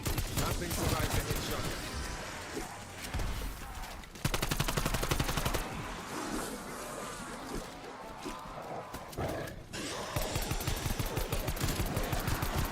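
Pistol gunfire in a Call of Duty zombies game on the Die Maschine map, fast repeated close shots in ragged bursts with brief pauses, mixed with game noise and no talk.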